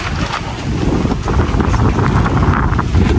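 Strong wind rushes steadily across the microphone outdoors, a loud, continuous roar with low buffeting and no voices.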